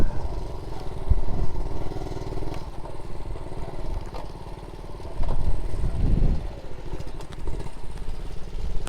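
A Honda Monkey Z50 J1 motorcycle rides along near Appledore, North Devon, its small engine buzzing steadily up close, with throttle swells and some clatter over nine seconds.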